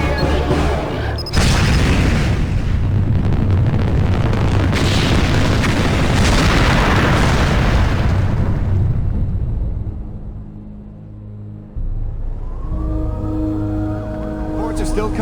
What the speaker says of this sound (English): Reports are still coming in about a massive explosion in Baltimore, Maryland, the site of this year's Super Bowl